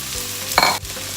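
Onions sautéing in a hot pan for Mexican lasagna, a steady sizzle with a loud burst of spitting and crackling partway through, then settling back to a continuous fry.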